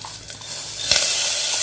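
Masala roasting in a pan for Indrayani rice khichadi over a low flame, a close steady sizzle and hiss that grows slightly louder midway, with faint scraping of stirring.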